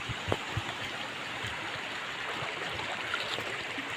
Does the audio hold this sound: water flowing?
yes